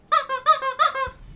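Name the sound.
squeaking toy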